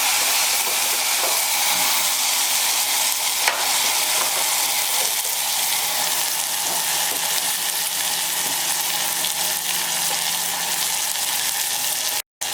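Radish frying in oil with asafoetida and turmeric in a pan for a Gujarati radish dish, giving a loud, steady sizzle and hiss that runs unbroken and close, with no voices, cutting off abruptly near the end.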